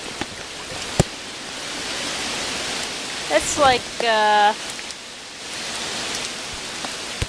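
Barefoot steps sloshing through a few inches of cold hurricane floodwater in a flooded yard corner during Hurricane Irene, Virginia Beach, with steady rain hiss throughout and a brief louder splash midway as a person speaks.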